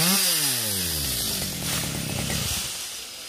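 Chainsaw cutting tree branches into firewood outdoors on a hillside, the engine revving hard then settling into a steady loud drone as the chain bites through wood, with no voices.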